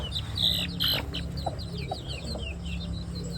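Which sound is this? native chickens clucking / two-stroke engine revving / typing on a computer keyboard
native chickens clucking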